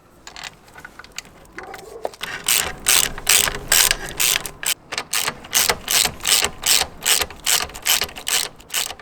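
Rapid ratchet clicks in repeated bursts as a center stand bolt is tightened on a Suzuki V-Strom 800 motorcycle, close and loud, the strokes growing steady and rhythmic after a quieter start.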